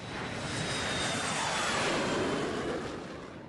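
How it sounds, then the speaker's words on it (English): A jet aircraft engine roars loud and continuous during a falling leaf manoeuvre, a broad rushing blast that swells and holds before easing slightly, with no talking. "The jet starts slamming from side to side, dropping like a brick."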